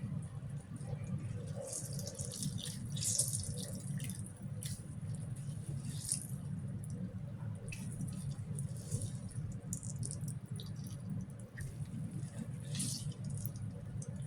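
Wet squishing and dripping as grated papaya is squeezed by hand, with water trickling steadily throughout, close and fairly quiet.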